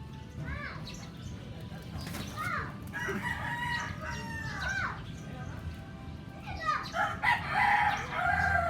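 A red rooster crows and clucks in repeated bursts, its harsh calls rising over a busy outdoor background with faint voices.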